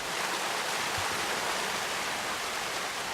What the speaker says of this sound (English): Man-made waterfalls are one of the many summer treats at the Arboretum.